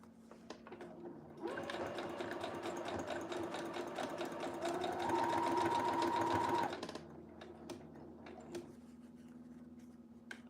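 A sewing machine stitches fabric in a fast even burst of several seconds, rising slightly in pitch and intensity midway, then stops, with quiet handling sounds before and after.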